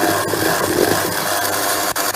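Revani cake batter of flour and liquid being stirred by hand in a bowl, giving a steady, close scraping and swishing texture that runs continuously with brief pauses near the end.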